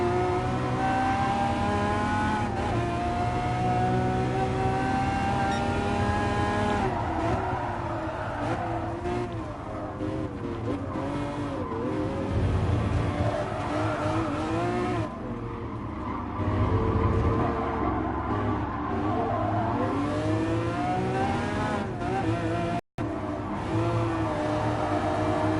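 Race cars in Gran Turismo Sport, including an Aston Martin Vulcan, roaring engines rising and falling in pitch as the cars accelerate, shift gears and pass one another, loud and continuous throughout.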